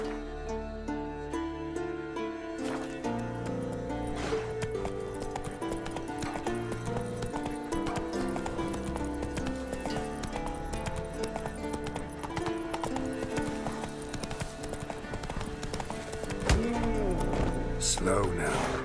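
Hooves of Roach the horse galloping in The Witcher 3, a steady rapid clip-clop running throughout under game music, with a rider's voice calling commands and a whinny near the end.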